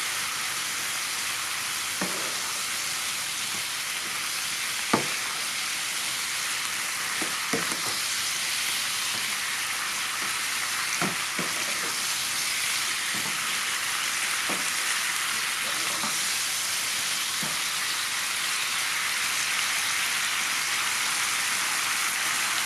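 Beef stir-fries with basil and sauce in a hot pan, giving a constant hiss and sizzle broken by sharp scraping strokes of the spatula, no voices.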